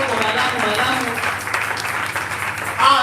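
A church congregation applauds in praise of the word of God during a French-language service, giving loud, sustained clapping that fills the room, with voices mixed in beneath.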